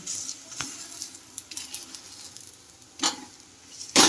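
Green chickpea-flour pudla cooking in oil on a pan, with a soft, patchy sizzle and a few louder crackling bursts near the end, no talking.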